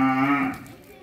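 A deshal-breed cow gives a single short moo close by, a low tonal call that fades within about half a second.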